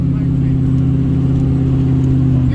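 A car engine drones steadily at mid pitch on a muddy woodland track, with a held, even rev rather than sharp bursts, loud and close throughout.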